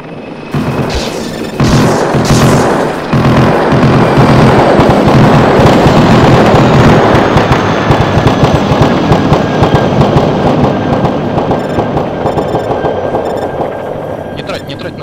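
Loud, continuous gunfire and explosions in a combat video game, sustained bursts and booms with a helicopter overhead, while players talk over the noise.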